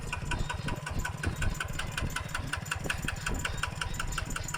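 A used Kubota ET95 diesel water pump engine runs steadily at idle, with a rapid, even knocking pulse throughout; close by and fairly loud, no voices.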